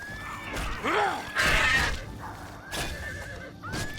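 A horse in The Elder Scrolls IV: Oblivion whinnies loudly several times, shrill rising and falling neighs close by, with some game background noise between calls.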